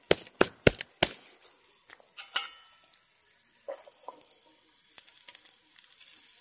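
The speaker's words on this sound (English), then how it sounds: "Actually frying up pretty good in this bacon grease." Fish fillets fry over a fire in bacon grease, giving a soft, steady sizzle with faint crackles after a few sharp knocks and clatters of pan handling at the start.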